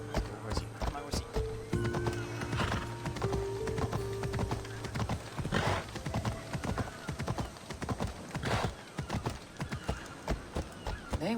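Steady clip-clop of horse hooves with a brief whinny in the video game Assassin's Creed Odyssey, set against music and game sounds, while a person talks over it.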